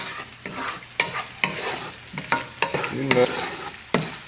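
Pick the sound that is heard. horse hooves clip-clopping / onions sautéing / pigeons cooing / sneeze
onions sautéing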